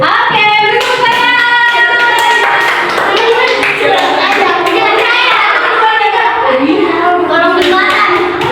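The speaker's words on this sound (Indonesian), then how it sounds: "Oke, beri tepuk tangan." A classroom group of students clapping hands together in a steady, dense burst that runs the whole time, with children's voices chattering over it.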